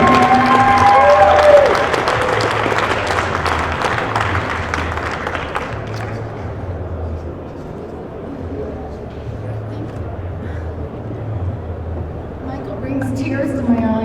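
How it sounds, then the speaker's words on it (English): An audience at Kushcon, a cannabis convention, applauds loudly as a speaker is brought up. A voice talks over the opening seconds, then the clapping thins and fades to a quieter crowd murmur. "So let's give a big round of applause and bring up Cheryl Shuman"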